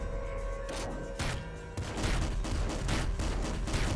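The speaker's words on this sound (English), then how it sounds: "Four shots, five shots," Rapid shotgun blasts in the roguelike video game Nuclear Throne, a dense, continuous barrage of booming game gunfire with overlapping explosions, loud and steady throughout with no pauses.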